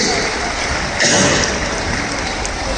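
Audience applauds Pradeep ji at a Pichhika Parivartan ceremony in Indore, a steady broad wash of clapping throughout with a slight swell near the middle.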